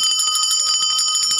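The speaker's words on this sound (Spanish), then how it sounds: "La campana." A bell rings in a rapid, continuous, high-pitched trill of quick repeated strikes. It is loud and near, with no voices.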